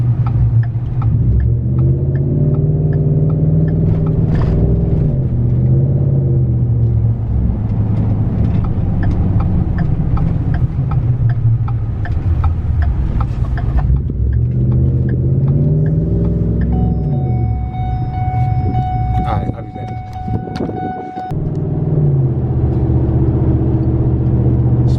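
A lifted Ford F-150 on 26x14 wheels with a Pedal Commander, driving in sport mode: a loud, close, steady engine rumble that swells and falls with revving and gear changes, running continuously with a brief dip near the end.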